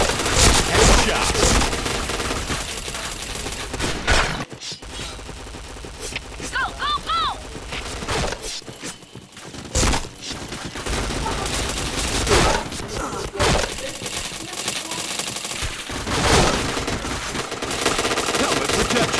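Dense, continuous gunfire in the online shooter Point Blank rattles through most of the stretch, with only brief gaps, and a voice talks over it at times.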